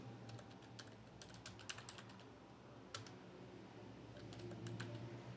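Someone types a command at a computer keyboard, with quick bursts of crisp keystrokes and short pauses, faint and close against a low background hum.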